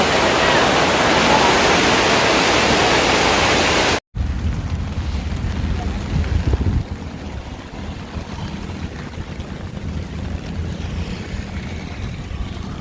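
Heavy rain pours down hard in a steady loud roar, then after a brief cut continues as a softer, constant wash of falling water, close by and without clear talk.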